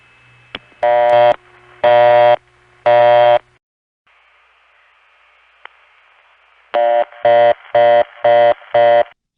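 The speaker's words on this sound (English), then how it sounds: "The busy tones often do the same thing." A 1970s long-distance telephone busy tone pulsing in even on-off bursts, first three beeps, then a hissy line gap, then five more loud steady beeps.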